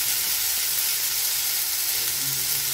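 Tomatoes frying in a pan give off a loud, continuous close-up sizzle with a steady hiss and no pauses.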